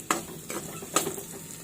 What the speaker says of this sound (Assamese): মেগীটো অলপ ভাজি লওঁ